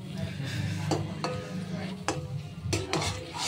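Pea filling being stirred in a pan on the stove for kachori, with a spoon scraping and knocking against the metal at irregular moments over a soft low simmer, close and moderately loud.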